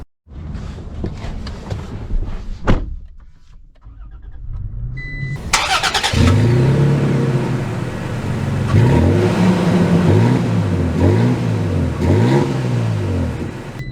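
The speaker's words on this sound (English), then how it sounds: "this Tacoma doesn't have a lot of gas in it, so this is gonna be a shorter test drive" A new Toyota Tacoma TRD Off-Road pickup starts up and its engine revs and accelerates repeatedly on a test drive, loud and close, with rising and falling pitch sweeps.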